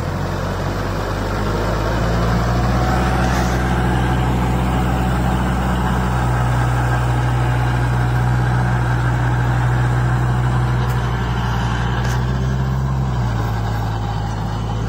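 Kubota MU 4501 4WD tractor running a 54-blade rotavator and harrow together, a loud, steady low diesel drone with a faintly shifting engine tone, heard close and alone without talk.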